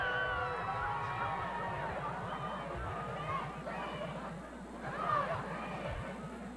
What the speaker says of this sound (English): Very nice crowd here today